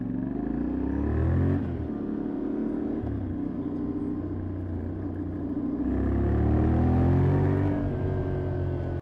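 A 2026 Yamaha Tenere 700 adventure motorcycle, Euro 5 compliant, revving its engine: a steady idle rumble rises into a first rev, falls back, then climbs into a longer, louder rev that sustains before dropping off at the end.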